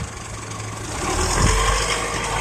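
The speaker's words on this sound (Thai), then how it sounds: "ลองเร่งธรรมดาทั่วไปตามองไปข้างหน้านะครับเร่งคันเร่ง" An automatic pickup truck's engine on a driving lesson, first a low idling rumble, then rising and swelling as the accelerator is pressed, close and moderately loud, with no speech.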